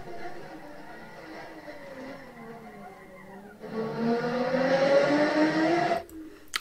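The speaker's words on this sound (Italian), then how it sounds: "Grande sovrasterzo, ma soprattutto abbiamo sentito bam bam bam bam telegrafare sull'acceleratore." A Ferrari race car at Austin, its engine rising and falling in rapid pitch sweeps as the throttle is blipped through oversteer, growing louder before cutting off abruptly near the end.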